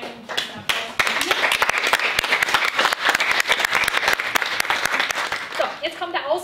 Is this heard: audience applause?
yes